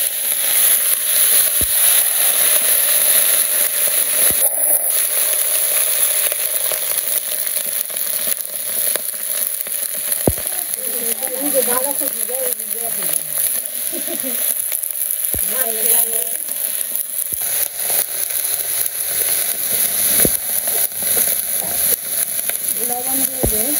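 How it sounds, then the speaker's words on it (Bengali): Vegetables fry in hot oil with cumin seeds and bay leaf, making a loud, steady sizzle that runs throughout with occasional crackles and stirring, while a voice speaks over it partway through. "আমার তেল গরম হয়ে গেছে, জিরা দিয়ে দেই, তেজপাতা দিয়ে দেই, দাও লবণের দাও সবজিগুলা দিয়ে"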